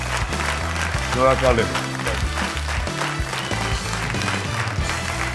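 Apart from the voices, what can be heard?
audience applause for a child singer on a TV show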